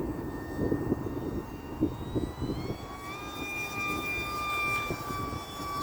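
An RC Eurofighter model jet flies at full throttle on a windy day, its engine giving a steady whining roar with a rising tone as it passes, heard from a distance over wind noise.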